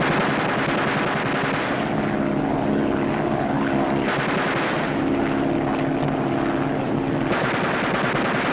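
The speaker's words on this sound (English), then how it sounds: "Fire 3 bursts each in rotation." An aerial gunner aboard a propeller aircraft fires machine gun bursts in a wartime film scene. Two long rattling bursts cut through the loud, constant engine drone, and no one speaks.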